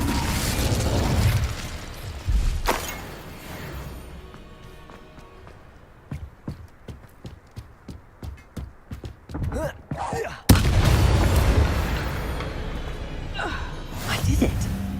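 Fire spell cast in Hogwarts Legacy against an Ashwinder during a duel, a sudden loud whooshing burst after a stretch of clicking and popping mechanisms, with a roaring flare that carries on to the end.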